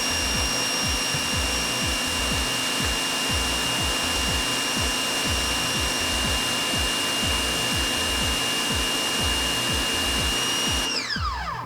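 Ryobi 1900 PSI pressure washer spraying through a 15-degree nozzle, a loud steady hiss with a pulsing pump throb underneath, running continuously and close until it cuts off at the very end.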